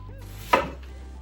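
A single close, crisp snap-crunch of onion rings being broken apart by hand for smoking, one brief burst over a low steady hum.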